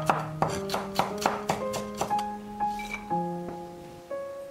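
Knife chopping scallions and garlic slices on a cutting board, about a dozen crisp, evenly spaced chops close up, with soft tonal ringing between strikes.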